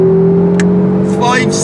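A front-wheel-drive hatchback launches hard in a drag race: a steady close engine drone that rises sharply into a revving climb near the end, with brief tyre and wind noise.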